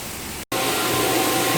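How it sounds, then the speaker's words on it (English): A hose sprays water across a cat room, a loud, steady hiss that stops for a split second and then comes back without a break. "Just hose this down."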